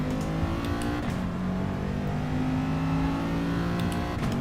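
Race car engines roar continuously in Gran Turismo Sport during an FIA Manufacturer Series online race, with a Ferrari following closely behind, producing loud sustained droning tones that shift pitch as the cars accelerate.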